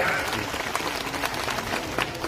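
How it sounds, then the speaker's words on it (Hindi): Clapping from a crowd welcomes speakers at an outdoor political rally in Uttar Pradesh, a loose, moderately loud patter of hands with scattered sharper claps and crowd noise beneath. "हमारे भाई जोरदार ताली बजा के स्वागत कर रहे हैं"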